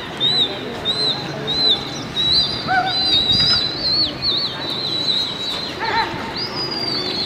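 Pigeons calling from a rooftop loft amid flocks in flight, soft repeated coos and chirps over steady outdoor background noise, with a few brief wing-flutter sounds.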